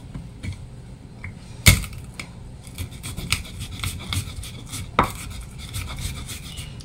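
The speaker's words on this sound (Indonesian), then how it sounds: "kemirinya saya haluskan pakai ini" Candlenuts being crushed by hand into a spice paste give repeated scraping, rubbing strokes with occasional sharp knocks. The sound is close and fairly quiet, and no one speaks.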